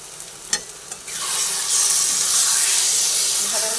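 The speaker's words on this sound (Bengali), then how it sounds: "এভাবে নাড়াচাড়া করে নিচ্ছি" Taro leaves being stirred in a wok, a couple of light scrapes giving way to a loud, steady sizzle and hiss of steam that fills the rest of the moment close by.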